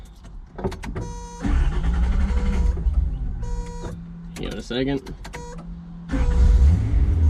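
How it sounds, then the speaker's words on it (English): An old Datsun 280Z engine cranks and catches, its idle rumbling steadily with a whine, interrupted by brief pauses and someone talking briefly over it. "let's go ahead and start the car."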